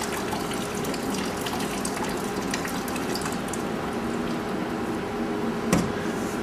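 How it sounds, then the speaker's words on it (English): A handful of water is spread by hand across a plastic sheet laid over a wet board during clay slab casting, giving a steady, close, wet swishing and smearing with no talking. "I grab another handful of water and spread it on top of that plastic sheet"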